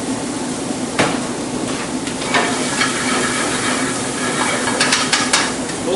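Holy Trinity vegetables hitting hot fat in a pan with andouille sausage, a steady loud sizzle and hiss with occasional clanks of a spoon against the pan.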